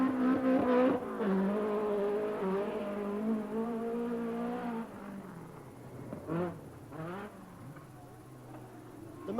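A Nissan rally car on a stage of the 1984 RAC Rally, its engine loud and close at first, revving through gear changes, then easing back with a few sharp bursts of throttle toward the end.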